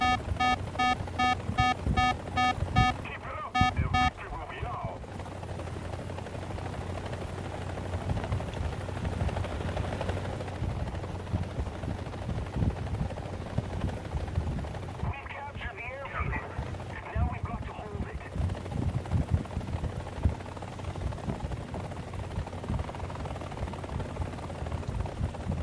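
A missile-armed attack helicopter in a video game throbs and whirs steadily close by for a long stretch, under bursts of wind-like noise and intermittent talk.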